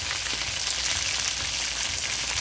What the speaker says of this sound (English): Here's the last set of the fish that I'm frying